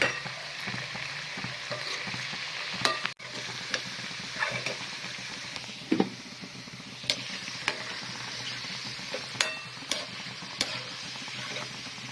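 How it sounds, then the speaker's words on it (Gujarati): Kothimbir vadi, coriander fritters, fry in oil with a soft continuous sizzle broken by scattered sharp pops and crackles, close by, with no voices. "આ રીતે ફેરવીને તળી દઈશું. નોર્મલ તળવાની છે, વધારે નહીં."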